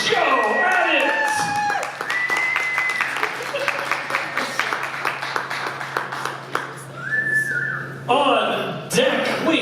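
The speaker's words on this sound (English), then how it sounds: "Big round of applause for the very masculine Joe Addict!" Applause and scattered whistles rise from an open-mic comedy crowd at Camp Bar in a run of rapid claps, with a host's voice talking over them.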